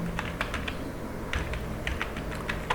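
Steady keystrokes on a computer keyboard, close and fairly loud, arriving in short irregular bursts of clicks with brief pauses between, no voices over them.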